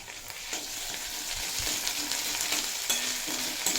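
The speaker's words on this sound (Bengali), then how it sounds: "দিয়ে কিছুক্ষণ ভেজে নেব যাতে আদা রসুনের কাঁচা গন্ধটা চলে যায়" Onion and potato frying with ginger garlic paste for a cauliflower curry, a steady loud sizzle with occasional stirring scrapes in the pan throughout.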